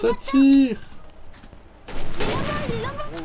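Gunfire in the video game Garry's Mod DarkRP: a dense burst of shots breaks out in the second half, mixed with players' voices.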